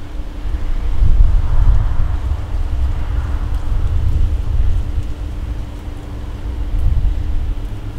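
Steady wind buffeting the microphone outdoors at an air rifle range, a low rumbling roar with gusts swelling and easing, no voices.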